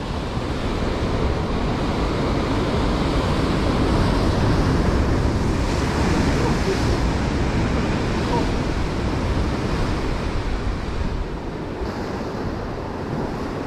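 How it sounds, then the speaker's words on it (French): Steady roar of ocean surf with waves breaking close by, mixed with wind rushing across the microphone. "Gaffe, il y a encore des sacrées vagues."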